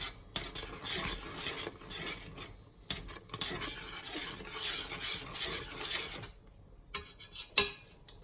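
Meat is added to a ham-in-sauce dish in a pot and stirred, with quiet clinks and scrapes of a utensil against the pot, some pauses, and a louder knock near the end.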